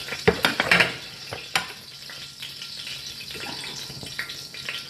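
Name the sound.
frying carrots and potatoes for beef caldereta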